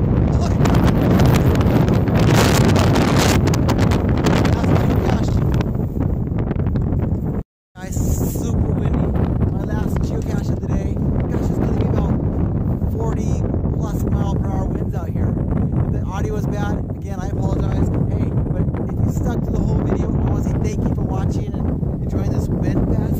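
Strong wind buffets the microphone on a cold, forested outing in Skamania, with loud gusting rumble throughout, a brief dropout partway through, and a voice talking over it.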